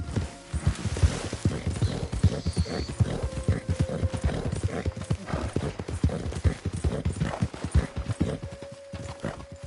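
Horse hooves clip-clop rapidly and steadily in the video game Red Dead Redemption 2, a loud, continuous trotting rhythm with a brief whinny-like tone partway through.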